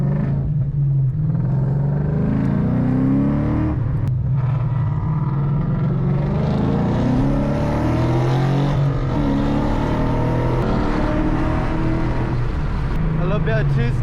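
Steady car engine rumble and road noise from inside a vehicle heading onto the freeway on the way to a car meet in Wasco, continuous and loud throughout with some voices faintly mixed in.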